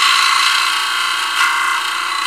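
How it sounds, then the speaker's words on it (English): A homemade DIY glass grinder built for under $30 runs continuously, giving a loud, steady grinding whir with a bright, sustained hiss and a slight swell midway, close up and with no talk. "My craptastic ghetto grinder."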